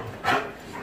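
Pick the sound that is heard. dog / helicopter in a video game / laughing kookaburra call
dog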